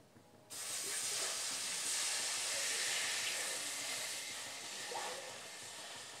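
Water poured into a hot pan of chilli-garlic seasoning for Maggi noodles bursts into a loud, steady sizzling hiss that starts suddenly and holds for several seconds, then eases slightly toward the end.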